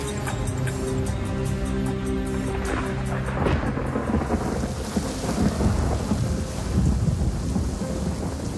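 Heavy rain falling over Atlanta, Georgia before dawn, with a loud rolling rumble of thunder building midway beneath the constant downpour.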